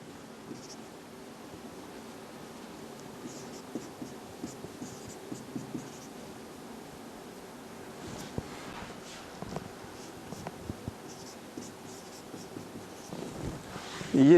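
Chalk or pen scratches across a board during a chemistry lesson on naming compounds, a faint, steady scraping with small taps, heard alone over a quiet room hiss.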